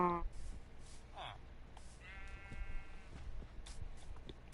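Sheep bleating in Minecraft on PS4, a few short bleats mixed with other animal-like game sounds over a low background.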